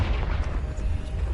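A fire-spell explosion in the Hogwarts Legacy video game lands as a dense, low rumbling boom that rolls on for over a second, loud and heavy, with no voices over it.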